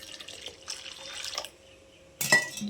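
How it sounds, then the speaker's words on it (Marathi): Water poured into a pan of Sindhi kadhi curry during cooking: soft watery trickling for about a second and a half, a quiet pause, then a brief louder splash near the end. "आपल्याला हवं तेवढं पाणी आता ॲड करायचं याच्यामध्ये"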